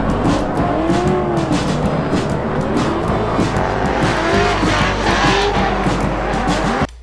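Several drift cars running close together in tandem laps, engines roaring and revving as tires squeal and skid continuously, loud and dense throughout with overlapping engine notes and no clear pauses.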